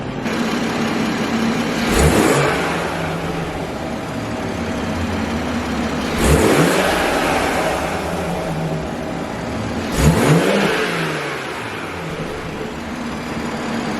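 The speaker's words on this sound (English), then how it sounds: "I'm gonna pop the hood and then rev the car a few times so you guys can kind of hear just the natural or the stock intake sound" A BMW 340i with its stock air intake, hood open, revs three times at spaced intervals, each blip rising sharply then falling back to a steady idle, close and loud.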